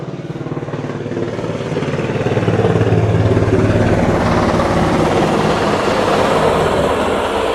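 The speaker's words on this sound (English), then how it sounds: "there's a bunch of helicopters" Several helicopters flying overhead near a neighborhood fire behind a mall, a steady loud rotor and engine rumble that swells over the first few seconds and holds, with no talking.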